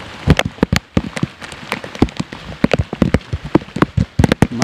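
Heavy rain pelting down high on Mount Sumbing on the trail toward basecamp, a dense hiss broken by sharp, irregular close drop impacts, loud and steady throughout with no voices.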